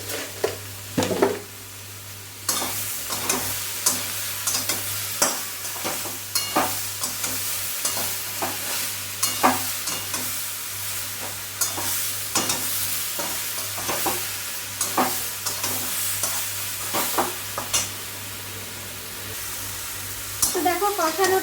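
A vegetarian vegetable curry stirs and sizzles steadily in a frying pan, with a spatula scraping in irregular strokes over a constant hiss of frying and a low background hum.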